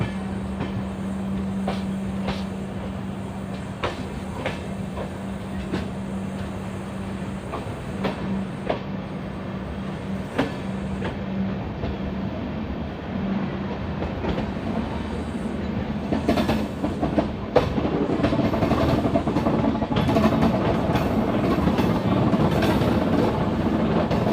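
The Kasganj–Aishbagh Express rolls toward Bareilly City with a continuous rumble and wheel rattle, steady rhythmic clicks over the rails, growing louder and rougher toward the end.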